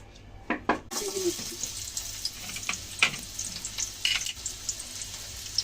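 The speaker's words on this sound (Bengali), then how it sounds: "বেরেস্তা করা হচ্ছে।" Onions sizzle in hot oil in a wok for chicken rezala, a steady crackling fry with clattering stirs and a few sharp pops as they go in.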